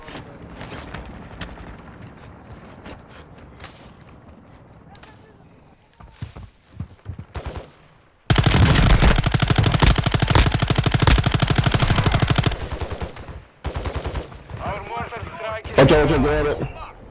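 Call of Duty gunfire: sustained loud automatic bursts with scattered single shots, one long dense burst mid-clip and more firing toward the end, with game voices speaking over parts of it.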